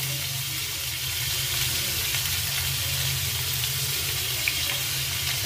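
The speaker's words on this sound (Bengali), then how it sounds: "একটু ভাজা ভাজা করে নেব ভালো করে।" A steady, even sizzle of pumpkin and potato frying in a pan, continuous and close, with no talking.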